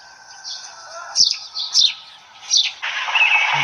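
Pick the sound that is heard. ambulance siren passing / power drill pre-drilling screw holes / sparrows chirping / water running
sparrows chirping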